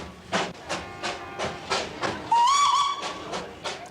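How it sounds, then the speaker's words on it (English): A small Darjeeling hill train rolls down the middle of Kurseong's main street, its steady rhythmic chuffing pulsing about twice a second while a shrill steam whistle sounds partway through, fairly distant with street ambience and no talk. "the little hill train runs smack down the middle of the main street"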